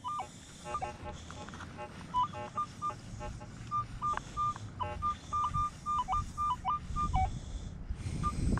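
A metal detector gives an iffy, broken signal suggesting iron, with choppy, warbling tones that stutter on and off in quick bursts while being swept outdoors at an old fairground, over soft background noise and rustling.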